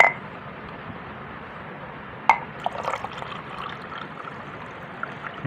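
Water poured out of a glass jar of homemade cucumber probiotic ferment, a faint splashing trickle that starts with a brief clink and runs for a few seconds over low room hiss.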